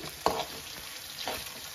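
Potatoes frying in a pan, a soft sizzle with two quick scraping stirs of a spoon, close and fairly quiet.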